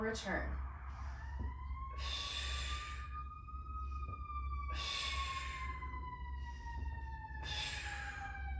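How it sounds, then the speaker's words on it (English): Emergency vehicle sirens wailing outside during an indoor Pilates lower-abs class, a rising and falling tone that stays steady in the background while an instructor talks over it. "Apologize about the sirens."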